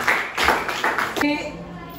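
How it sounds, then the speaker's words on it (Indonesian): A classroom of students gives a short burst of hand clapping for a classmate, a few loud claps over about a second that stop abruptly, followed by quiet room tone. "beri tepuk tangan untuk Nora"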